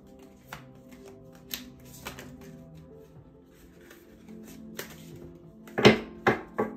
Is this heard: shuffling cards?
yes